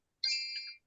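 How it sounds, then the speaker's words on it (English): A phone notification ding, one short bright chime about half a second long, clear and alone against silence. "phone keeps going off, so pardon my phone dinging"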